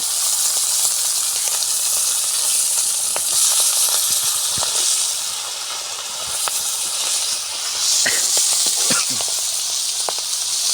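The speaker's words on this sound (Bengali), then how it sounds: "মাছটা এখন ভাজা হচ্ছে" Fish heads fry in mustard oil with a loud, continuous hissing sizzle, broken by occasional pops and spatters that sharpen toward the end.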